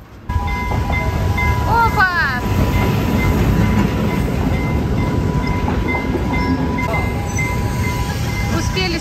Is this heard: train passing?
yes